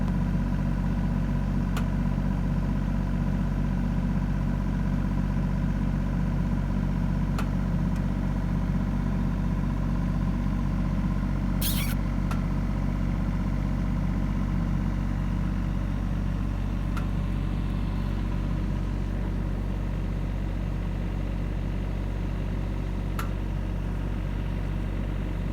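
A tractor engine runs steadily in a yard, a close, continuous low rumble that holds an even drone from start to end with no one talking.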